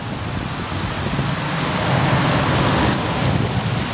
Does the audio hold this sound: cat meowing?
no